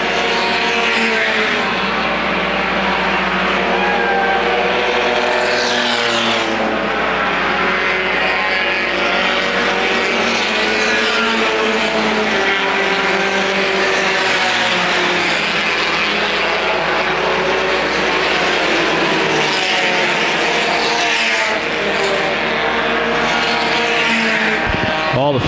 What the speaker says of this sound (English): 58 car on the backstretch, Martin, and the 11 car of Bean.